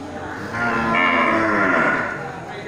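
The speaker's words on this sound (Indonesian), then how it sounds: "ini di depan kita banyak terlihat sapi-sapi jantan ya. Sapi siap potong dari beberapa orang juragan" A beef bull at a livestock market lets out one long, loud, close moo that swells and fades, with low crowd murmur in the background.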